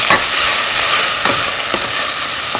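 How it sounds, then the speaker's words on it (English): Vegetables for fried rice sautéing in a hot pan, a loud, close hiss of sizzling broken by a few scrapes of stirring, with no voices. "So we're just going to saute them for a few minutes."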